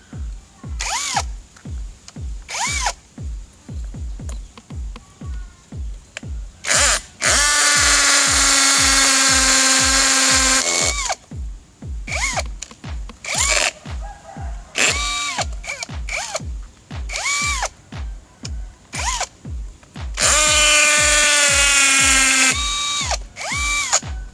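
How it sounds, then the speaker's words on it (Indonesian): A brushless cordless impact drill pounds repeatedly in short rhythmic bursts, broken by two long, loud, sustained stretches of grinding, hammering drilling into a concrete foundation. "Ini mengebor cor-coran yang menjadi pondasi sudah pasti insya Allah kuat"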